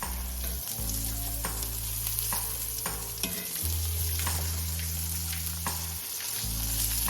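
Salmon fillets sizzle steadily in a hot pan while a utensil stirs and scrapes, a close, continuous frying hiss for a creamy salmon pasta with no one talking.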